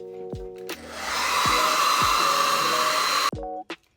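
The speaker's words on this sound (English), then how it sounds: "Next, I'm going to dry this a little bit with my blow dryer." A handheld blow dryer drying acrylic paint on a canvas switches on with a click, blows a steady loud airy whir for about two and a half seconds, then cuts off, with small knocks around it.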